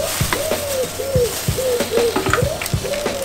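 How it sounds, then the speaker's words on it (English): Pigeons or doves coo repeatedly in a steady rhythmic series of soft, close calls near a parked Honda CB750 cafe racer motorcycle, with no engine running and no one talking. "Even the birds are impressed."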